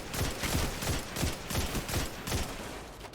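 Rapid bursts of automatic gunfire in the Destiny 2 Legend Lost Sector K1 Crew Quarters, firing at Fallen enemies; repeated close, loud volleys in a steady rhythm, with no talking.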